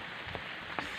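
Heavy rain pouring steadily outdoors, a dense even hiss with a couple of faint drop splashes, no voices.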